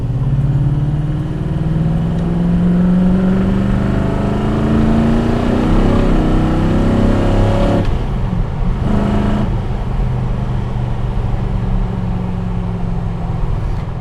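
CAV GT40 with a 450-horsepower engine on quad Weber carburetors, its exhaust droning loud and steady under load with a rising, swelling engine tone throughout, no talk.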